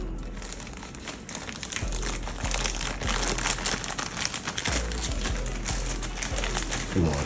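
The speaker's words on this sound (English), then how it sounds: "we're gonna take that, we're gonna place it in the Ziploc bag" A paper towel holding seeds is pushed into a plastic Ziploc bag, giving steady, close crinkling and rustling of plastic and paper that runs throughout with small crunches and handling noises.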